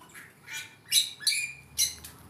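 Birds in a backyard aviary give several sharp, loud squawks at irregular intervals over faint background noise.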